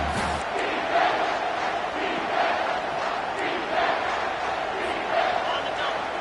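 A home crowd roars at a college football game as the defense tries to get off the field on third down, a loud, sustained wash of cheering that swells in waves.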